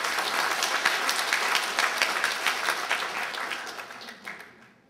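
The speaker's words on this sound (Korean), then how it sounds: "여러분께도 우리의 기대와 소망을 담아서 다 함께 한 번 더 크게 박수해 주십시오" An audience at a Masan literary anthology launch event applauds warmly and evenly, the clapping fading out toward the end.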